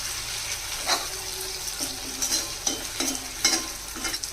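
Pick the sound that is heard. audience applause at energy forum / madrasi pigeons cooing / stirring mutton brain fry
stirring mutton brain fry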